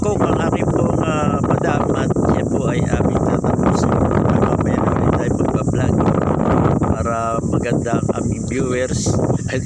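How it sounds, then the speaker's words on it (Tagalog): Strong seaside wind in Japan roars and buffets the microphone steadily throughout, with people talking underneath the constant rushing noise. "Napakalakas po ng hangin dito."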